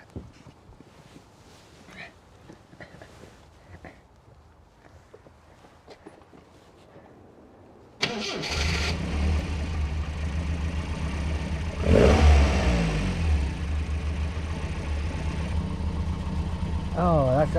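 Classic car engine starts abruptly after quiet talk, settling into a loud steady idle, then swells in a strong rev before easing back to a rumbling run, with people speaking over it.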